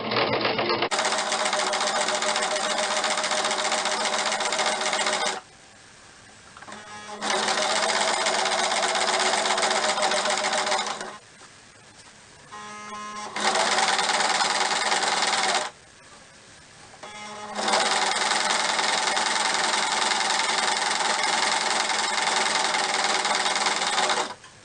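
A sewing machine stitches cloth for a nun's wimple collar in several long, steady runs with short pauses between them, a close, even mechanical whir and patter.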